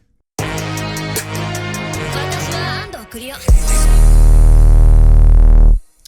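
A dense, washy swell of reversed reverb builds with stuttering hits and a pitch sweep, then a deep booming tail that cuts off abruptly.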